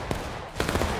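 A massed musket volley fires on command in the War of Rights video game, heard as a dense, crackling burst of overlapping shots that rolls out over about half a second, loud and near.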